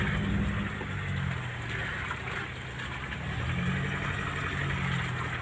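A truck stuck on a mountain dirt bank, running out of four-wheel drive, gives a steady, loud engine drone with faint rising revs, and no voices over it.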